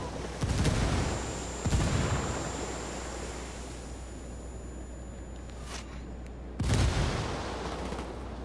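Gunfire in the tactical shooter game Ghost War: a few loud bursts of shots near the start and again later, with a steady low rumble and hiss between them and no talk.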